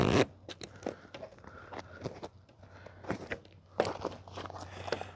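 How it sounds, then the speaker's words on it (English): Zipper being opened on a Bestop soft door of a Jeep, with a quick close rasp at the start followed by scattered rustles and short zipping pulls. "let me unzip this out of the way"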